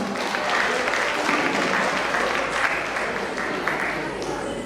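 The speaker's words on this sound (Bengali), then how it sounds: "এদের জন্য আমার জোরদার হাততালি দেওয়া হয়।" A crowd at a Nabavarsho celebration applauds honoured guests with a full, even roar of clapping. The applause holds at a strong, constant level for several seconds without breaks.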